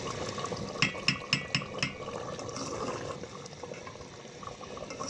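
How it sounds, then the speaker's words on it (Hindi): Water boiling in a cooking pot over a flame while an aloo matar chicken curry cooks, a steady bubbling wash with a few sharp clinks early on and no talk. "पानी में उबाल आ गया है"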